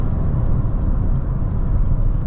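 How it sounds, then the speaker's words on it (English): Steady wind and road roar fill the cabin of a 2023 Toyota bZ4X electric SUV at highway speed, a loud, constant low rumble with faint hiss and no talking. "it is definitely windy and noisy in the cabin of this BZ4X."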